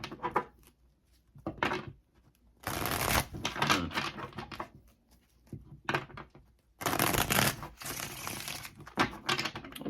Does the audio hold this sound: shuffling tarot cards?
yes